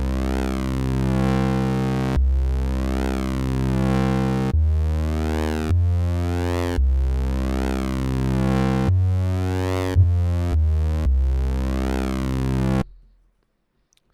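SynthMaster 3.3 synthesizer tone morphing between line-source keyframes, with buzzy harmonic-rich sustained notes changing pitch in a steady sequence of about eleven phrases, loud and alone, then ending abruptly.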